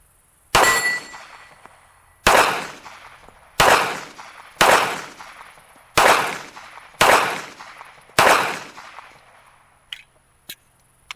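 A Remington gun fires seven evenly spaced rounds, each a loud, sharp nearby report with a ringing metallic decay, followed by a few softer clicks as the shooting stops.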